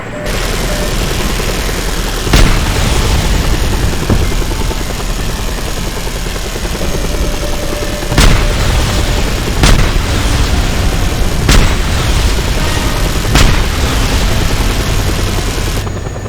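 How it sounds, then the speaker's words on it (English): Just Cause 2 game combat with a helicopter's loud continuous rotor drone, punctuated by several sharp blasts and thuds from a missile launch and explosions, dense and close throughout. "Missile launched."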